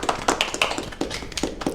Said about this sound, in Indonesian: Tepuk tangan dulu dong, geng.